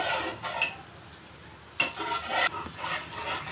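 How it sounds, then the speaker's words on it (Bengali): A spoon scrapes and stirs blended nuts into a thickened ice cream mixture in a pan, giving soft repeated rubbing and clinking strokes at close range with no voices. "এখন আমি এর মধ্যে বাদাম ব্লেন্ড করাগুলো অ্যাড করে দিলাম দেওয়ার পরে এভাবে কিছুক্ষণ নাড়তে থাকবো"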